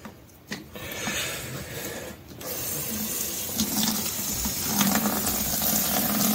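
Running water from a hose rinses a K&N air filter being cleaned from the inside out, a steady broadband splash and hiss that holds nearly constant, briefly dipping before settling into continuous close flow with no talk.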